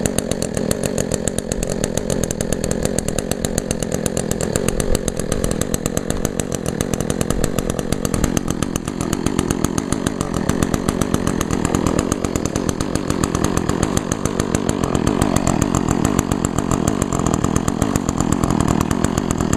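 An Echo chainsaw engine idles after a cold winter start, a steady, close, loud two-stroke drone that holds an even pitch throughout with no revving and no voices.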